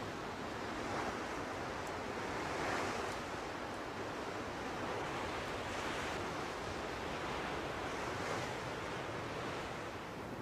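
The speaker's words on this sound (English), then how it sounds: "Because there's a strong wind blowing" Strong wind blowing on a cliff top by the sea, a dense, continuous roar of wind and surf-like noise at a constant, fairly loud level with no voices.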